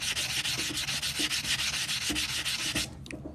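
Sandpaper rubs back and forth over the cut edge of a metal coin ring, a close, loud, rhythmic scratching with regular strokes that stops abruptly near the end.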